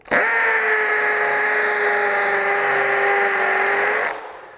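A China-made Craftsman CMCD731 brushless hammer drill in hammer mode runs at a steady, loud, high-pitched whine for about four seconds, then cuts off and winds down.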